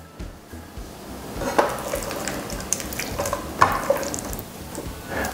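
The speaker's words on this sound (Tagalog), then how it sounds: "Tapos haluin pa rin natin." Sesame-glazed fried chicken nuggets stirred in a pan, a steady scraping and soft sizzle with a few louder clinks of utensil against the pan, close and alone without talk.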